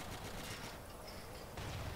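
Dense bursts of gunfire in the World War II shooter Battlefield 1942, in the Uman Pocket battle with Hungarian forces. Loud and continuous for two seconds, with heavier low thumps near the end and no talking.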